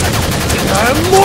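Dense, loud, continuous gunfire effects in a fast-paced action fight, rapid overlapping shots forming a solid barrage with a rising tone near the end.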